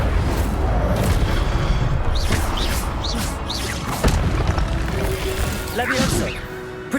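The Incendio fire spell is cast in Hogwarts Legacy amid loud, continuous combat: repeated heavy booms, crashing impacts and whooshing bursts tumble over one another, with shouted spell voices mixed into the dense battle noise.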